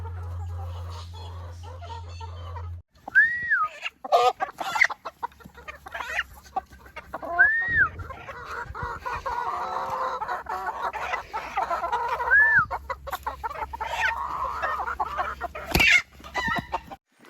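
Chickens cluck and roosters crow at a gamefarm, with several distinct crows standing out over scattered clucking and background yard noise.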